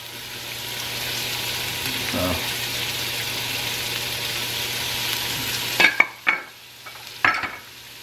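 Chopped sweet Vidalia onion and five garlic cloves fry steadily in olive oil in a pressure cooker pot, a continuous soft sizzle with a few sharper clatters of stirring near the end.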